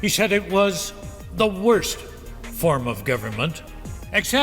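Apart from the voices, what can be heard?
No everyday noises stand out.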